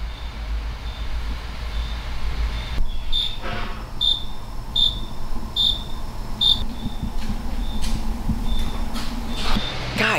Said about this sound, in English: we have crickets.